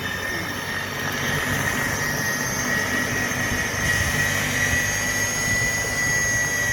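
An Ego two-stage battery-powered snow blower runs with a steady, loud electric whine and broad whooshing roar, held continuous and close throughout.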